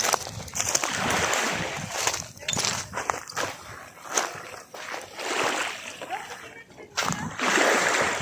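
Continuous splashing and sloshing of water as someone swims in clear sea water at Rangiroa, French Polynesia, near a yacht, with broadband splatter bursts rising and falling close by throughout.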